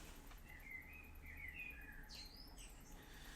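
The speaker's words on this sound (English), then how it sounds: "let me know if you've been able to hear all the birds singing today" Birds chirp and whistle in high, bright phrases over a steady low background hum, with several calls overlapping and carrying from a little distance.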